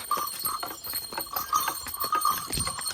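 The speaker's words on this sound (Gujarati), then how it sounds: "આ આપણા બળદ હાલ્યા જાય છે જુઓ" Bullocks on a farm walk at dusk, their hooves making a soft, uneven clip-clop over a faint, busy outdoor background, with no voices present.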